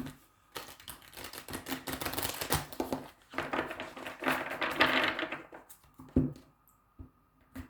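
Tarot cards riffle and slap together in rapid bursts, a crisp papery shuffling close by that stops and starts over several seconds.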